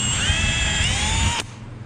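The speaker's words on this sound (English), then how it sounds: "now what I can do is use my drill to pre-drill these furring strips so that I don't crack them" A power drill whines steadily as it pre-drills holes in wooden furring strips, loud and close with a high motor tone, then the sound cuts off abruptly near the end.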